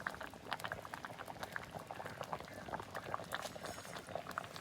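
A pot of tuna head curry, with coriander leaves just added, bubbles at a steady rolling boil, a continuous close-up crackle of popping bubbles and liquid churning with no talk.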